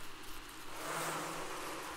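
Bees in the video game Don't Starve Together buzz in a steady, fairly close drone that thickens and grows a bit louder partway through, with no voices.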